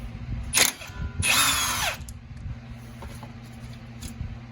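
A power drill or impact tool whirs in two bursts, a short one and then a longer one, while a 14 mm brake caliper bolt is removed from a car's front wheel during a CV axle replacement. Workshop noise continues quietly in between.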